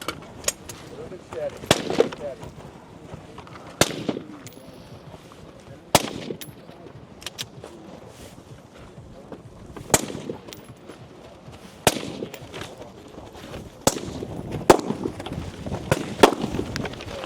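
Pistol shots ring out at an outdoor shooting competition stage, with sharp loud cracks spaced every couple of seconds and people talking quietly between them.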